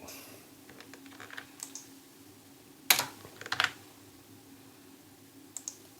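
Code is typed on a computer keyboard in quick, soft clicks, with a few sharper louder keystrokes standing out. The clicking is close and quiet, with no talking.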